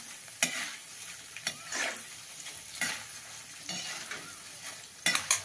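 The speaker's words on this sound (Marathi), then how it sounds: "बघा कसे छान तेल तापलं की कसे फुरफुर फुटतात आपले, किती फुलले छान" Nylon sabudana being fried in hot oil, a steady crackling sizzle with a few sharper taps and stirring scrapes in the pan, close and moderately loud, no talking.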